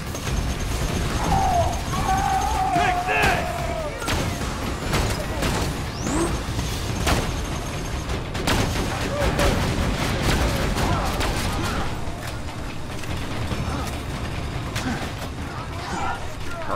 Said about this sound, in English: it's just bullets everywhere